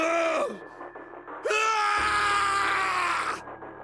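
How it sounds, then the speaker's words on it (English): Snake screams in rage and despair inside an incineration chamber in the game Zero Escape: Nine Hours, Nine Persons, Nine Doors. Two loud, drawn-out anguished cries, the second longer and sustained, are heard up close. "His scream echoed through the incineration chamber, full of rage and despair"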